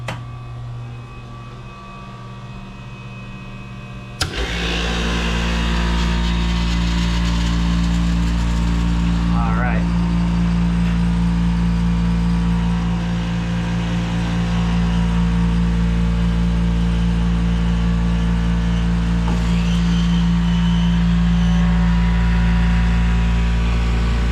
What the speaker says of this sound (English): I'm gonna turn on the power and see if she makes ice